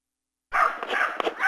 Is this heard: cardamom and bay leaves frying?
no